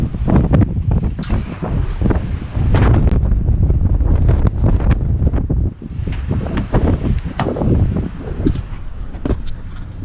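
Heavy wind buffeting the microphone on a fishing boat on a rough day, a loud continuous rumbling roar with gusty surges and brief crackles throughout, no speech heard.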